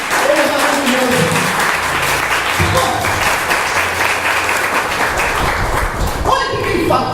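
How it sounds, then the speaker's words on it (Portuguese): A church congregation claps together in loud, sustained applause that fills the room, with voices mixed in. "E pode dar uma salva de palmas porque Jesus, ele é maravilhoso."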